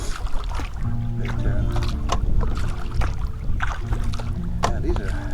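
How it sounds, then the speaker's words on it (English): A kayak is paddled along the edge of the water below bluffs, with soft rhythmic paddle strokes and light water splashes and gurgles, close by under a steady low background hum. "I'm going to kind of paddle along the edge of this."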